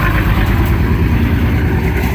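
A farm tractor passes along a road, its loud, steady low engine rumble filling the whole stretch without a break.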